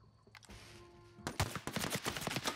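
Rapid gunfire from The Outer Worlds 2 video game, including shotgun blasts, erupting loud and dense after a quieter opening, with a heavy bursting shot followed by a steady stream of sharp reports.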